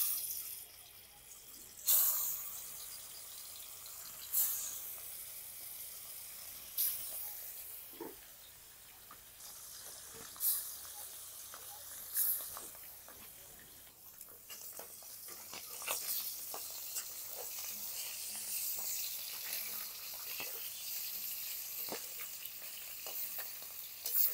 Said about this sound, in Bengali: গরম হয়ে গেছে, দিয়ে দিচ্ছি মাছগুলো আমি ভেজে নিচ্ছি।